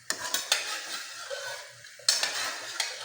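Intestine (kudal) stir-fried in a pan, with close scraping and stirring strokes against the metal over a soft continuous sizzle and sharp bursts at the start and again near the end; no one speaks.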